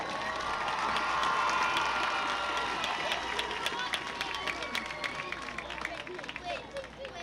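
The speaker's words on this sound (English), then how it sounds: "Let's give another round of applause for all these singers." A crowd at a high school football game applauding singers, sustained clapping and cheering across the stands that slowly tapers off, with voices mixed in.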